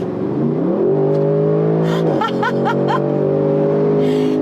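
An Audi RS6 or RS7 engine with an AWE SwitchPath exhaust revs up loudly, its exhaust note climbing in pitch, dipping briefly, then rising again, with a few short voice-like yelps overhead.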